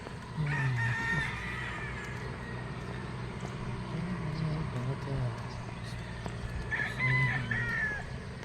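A rooster crows twice, once at the start and again near the end, over outdoor background noise and faint clucking.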